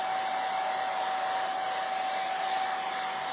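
Hair dryer blowing on fresh paint on a wooden barn quilt block, a constant close whine with a steady high tone and no pauses.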